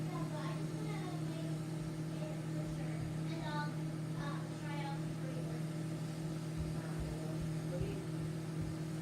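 A household microwave oven running with an iPad inside, giving a steady low electrical hum throughout while people chat nearby and faint crackles come and go.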